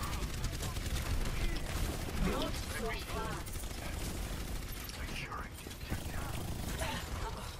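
Rapid bursts of gunfire crackle through a video game match in dense, overlapping volleys that run the whole stretch, with faint muffled voices underneath.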